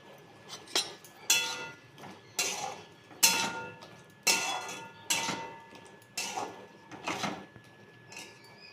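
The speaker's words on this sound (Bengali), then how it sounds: "এখন আমি এর মধ্যে 50 গ্রাম আদা বাটা দেবো। দিয়ে আবারও ভালো করে কষাবো।" Onion and ginger paste are stirred in a pan, with a spoon knocking and scraping against the metal in a regular rhythm of about one sharp clatter per second, close and fairly quiet with no talk.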